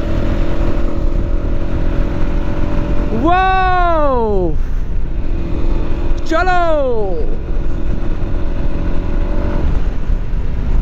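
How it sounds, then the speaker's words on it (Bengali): A motorcycle cruises along a highway with steady engine drone and wind rush, and two rising-then-falling gear-shift sweeps mark acceleration, while a rider speaks briefly over the noise. "হাইওয়েতে তো বাইকটা নিয়ে অনেকক্ষণ রাইড দিলাম"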